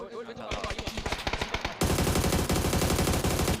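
Rapid automatic gunfire in PUBG: Battlegrounds, loud and close, starting as sharp separated bursts and then merging into a dense, continuous volley.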